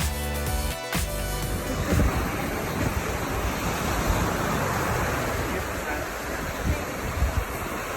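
Waves washing onto a beach, a steady broad rush of surf with wind buffeting the microphone, continuous and fairly loud throughout.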